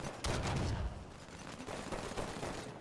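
Gunfire in the video game Halo 5 Guardians, a quick burst of shots followed by fainter scattered fire, quiet overall.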